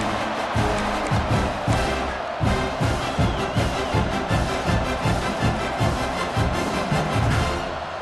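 A fired-up home crowd cheers in EA Sports College Football 26, a dense, steady roar carried by loud rhythmic low thumps that pulse throughout, with no clear voices on top.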